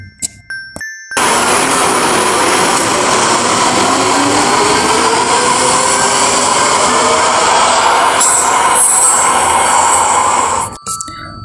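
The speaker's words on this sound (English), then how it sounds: "Metro rail. This is Delhi Metro Rail." A Delhi Metro train's steady, loud rolling roar with a high electric whine carries on for about ten seconds, after a few short beeps at the start.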